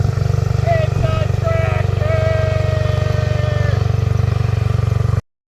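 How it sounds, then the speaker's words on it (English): A 1973 Bolin yard tractor's engine runs steadily and loudly up close, a constant low rumble with a faint whining tone on top, and someone talks over it throughout before it cuts off abruptly. "Now, this right here is your top of the line Bolin 1973 yard tractor"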